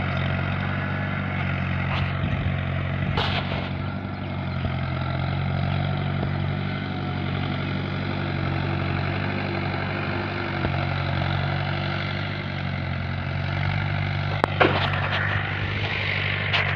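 Steady, loud engine drone of a Sarpanch 475 DI tractor ploughing a farm field, a continuous low rumble with a few brief knocks and clatters near the end.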